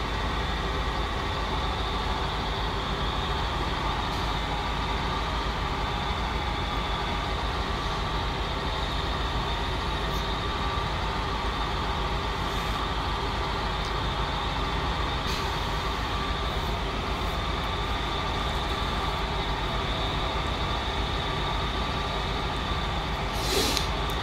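A heavy truck's engine drones steadily while driving in the off-road game SnowRunner, a constant low mechanical hum held at a moderate, even level with no talk over it.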